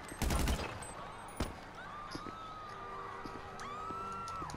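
Burst of rapid gunfire in Grand Theft Auto V opens the scene, followed by a single later shot, then a wailing police siren and ambient city noise carrying on underneath.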